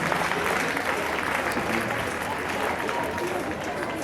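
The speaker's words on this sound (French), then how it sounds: "Applaudissez-la bien fort, merci." Spectators at a sidesaddle riding obstacle event applaud a rider, a thick, steady roar of clapping with a voice speaking over it.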